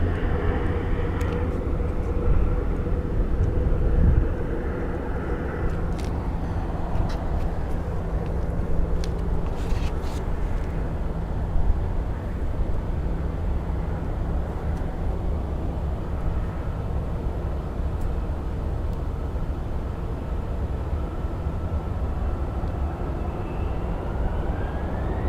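A Delta plane at Phoenix Sky Harbor airport makes a distant, steady low rumble that holds for the whole stretch, with a few faint clicks and knocks close by.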